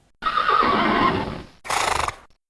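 A horse neighs loudly in a long shrill whinny, followed after a brief pause by a second shorter burst of whinnying, close and clear with no talk.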